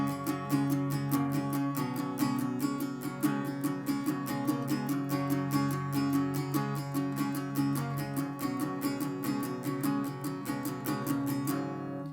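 Guitar strums the chorus of a song, a steady, fast rhythmic strumming pattern repeated over and over, close and full, with no voice.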